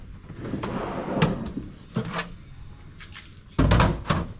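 Soft-close drawer fronts shutting in a Mitsubishi L300 van build, heard as a few soft wooden thunks and bumps close by with a heavier closing thud near the end, no talk.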